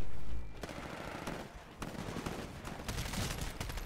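Gunfire in the Titanfall video game: rapid automatic bursts of shots crackling over dense game noise, with a brief lull before the firing resumes steadily and moderately loud.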